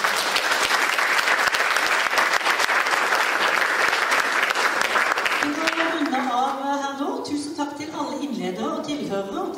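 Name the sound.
applause from the seminar audience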